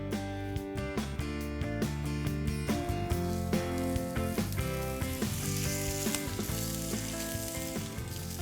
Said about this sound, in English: Great sizzle, lovely colors.